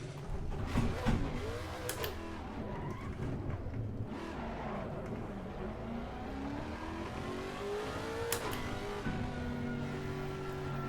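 A Lexus RC F GT3 race car engine revs in Assetto Corsa Competizione, rising and falling through gear changes with shifting tones, moderately loud and continuous without talk.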